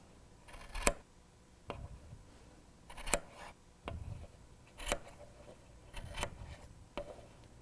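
Scissors trim the loose ends of a handwoven fabric piece, a quiet series of about six crisp snips at a fairly steady pace, with no talking.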